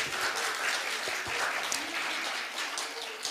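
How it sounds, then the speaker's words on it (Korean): Audience applause fills a year-end public broadcast event for a Seoul party chapter, a steady, loud wash of many hands clapping throughout with no pause. "박수 한번 치고 가도록 하겠습니다"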